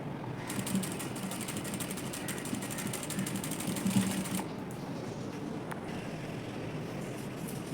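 A sewing machine fitted with a single foot runs slowly and steadily, stitching lace onto a frilled sleeve, with a continuous mechanical whir and rapid needle ticking that eases off partway through.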